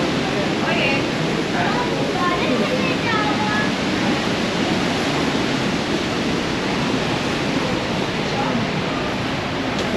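Niagara Falls roars as a dense, unbroken wash of falling water and spray, loud and steady throughout with no breaks.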